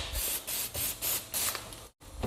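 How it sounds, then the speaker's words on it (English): Parts cleaner is sprayed in short, close hissing bursts onto an engine's valve cover area, about six pulses in a row with a brief silent gap before a final spray. "we're going to follow that up with a little bit of parts cleaner"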